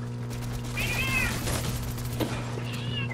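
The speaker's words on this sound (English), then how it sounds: "That meow is terrible." An elderly cat of about 14 or 15 years gives two drawn-out, raspy meows close by, over a low steady electrical hum.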